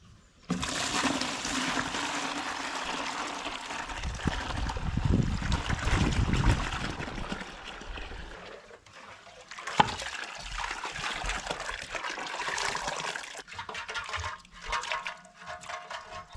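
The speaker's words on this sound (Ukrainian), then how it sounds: "Зараз я зіллю цю всю воду, яка на дні була." Rusty water pours out of the fuel tank of a Dnepr-12 K750 motorcycle left unused for 37 years, a loud gush that slows to splashing and trickling, with some clanks near the end.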